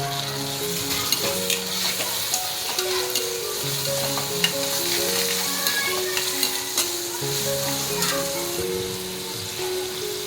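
Tomatoes fry with browned onions in a pan, sizzling steadily while being stirred. Repeated scraping strokes and crackles sound close and continuous throughout.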